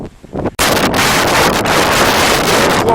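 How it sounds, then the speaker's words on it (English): Strong wind at the Wichita Mountains Wildlife Refuge hits the microphone hard after a brief quieter moment, becoming a loud, continuous roaring buffet that fills the rest of the clip. "I just wish the wind would stop."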